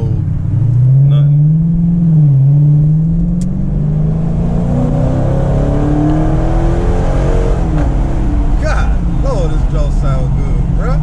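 A Dodge Charger R/T in stock throttle mode, no sport mode, pulls hard in a straight line, its mid-pitched engine note climbing and shifting steadily and staying loud and close throughout, with a voice talking over it.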